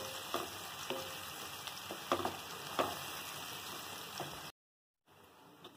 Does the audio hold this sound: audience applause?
no